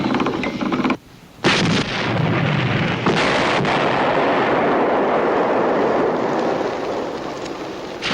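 Wartime artillery shells fire at an enemy railroad gun in a dramatized battle scene, a continuous loud roar of booming blasts and rumbling detonations that briefly drops off and then surges back.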